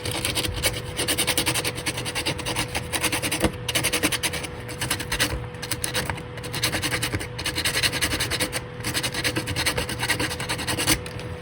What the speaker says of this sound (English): a light bit of sanding should do the trick.